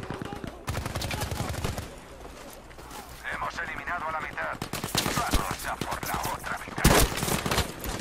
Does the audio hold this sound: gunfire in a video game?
yes